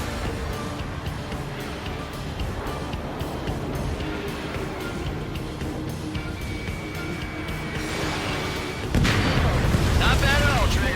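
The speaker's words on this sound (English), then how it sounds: "Strider 3 launching missile." A fighter jet fires a missile in the Ace Combat 7 video game, with a loud rushing burst near the end over a steady engine roar and radio chatter.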